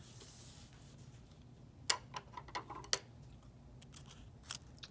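Scissors snipping a pink paper quilling strip in half, several sharp close snips and clicks at an uneven pace over a quiet background, no talking.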